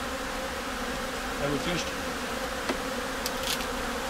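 Honey bees swarm around an open hive during an Icelandic beekeeping session, a dense steady buzz filling the background while a voice briefly speaks over it.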